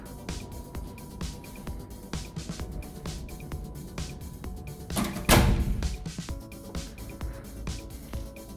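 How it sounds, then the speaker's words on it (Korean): An apartment door swings shut with a single solid thud near the middle, set against steady room noise in a furnished two-room flat in Ho Chi Minh City. "잠깐 문을 닫겠습니다."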